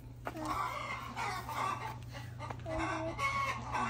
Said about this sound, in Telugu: ఆహా, కోళ్ళు బాగున్నాయి.